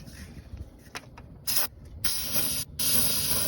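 Aerosol can of starting fluid sprayed into a GM engine's air intake with the air cleaner removed, a few sharp close hissing bursts of increasing length after some quiet handling.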